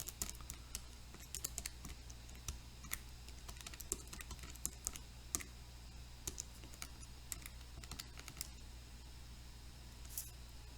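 Soft, quick key taps on a calculator keypad, faint and close, scattered in irregular bursts over a low steady background hum, with no talking.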